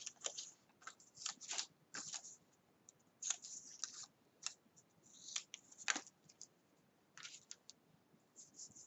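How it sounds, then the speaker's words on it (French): Scissors snip decorative paper at an angle across the corners for a scrapbook album page, a run of crisp, close cuts in short irregular bursts with brief pauses between, fairly quiet and with no talking. "On coupe en biseau les angles"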